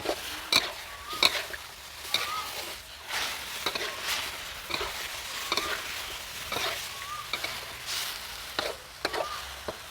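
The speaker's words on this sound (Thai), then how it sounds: "ผัดแตงกวาสักพักหนึ่งก็ใส่มะเขือเทศลงไปได้เลยครับ" Cucumber sizzles in a hot pan while a utensil repeatedly scrapes and stirs, close and steady with irregular clacks.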